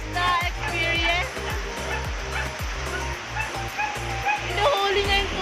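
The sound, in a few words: first rain pouring with dogs playing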